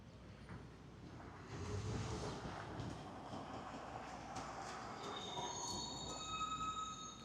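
A train at the Pershing Square stop in downtown Los Angeles rumbles steadily at a distance, with a rising metallic wheel squeal toward the end, no talk.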